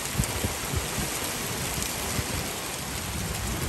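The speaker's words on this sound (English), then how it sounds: "And the rain is coming down hard now, like super hard." Hard rain pounds a tin roof during a Texas storm at a base camp, a dense, loud, continuous roar with faint low rumbles underneath.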